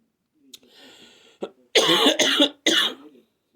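Several harsh coughs close to the microphone, a quick burst of three or so, with a faint breath and throat noises before them.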